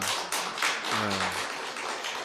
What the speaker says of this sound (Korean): 우리 윤미자매에게도 박수 한번 부탁드립니다.